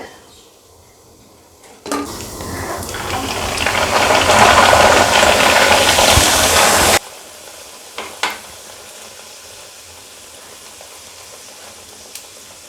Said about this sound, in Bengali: তেলটা আমার গরম হয়ে গেছে। এখন আমি একটা একটা করে দিয়ে ভেজে নেব।